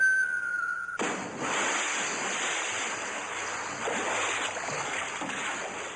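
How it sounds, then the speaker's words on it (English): After a brief whistling tone cuts off, a rushing ocean splash and surf wash in and carry on as a broad, steady roar with wind-like noise, fairly loud and without voices. "And plunges immediately into the ocean below."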